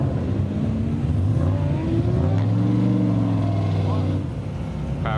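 A 1,000 horsepower car in the racing game Shift Sector revs hard, its loud, sustained engine drone climbing steadily in pitch and holding strong for several seconds.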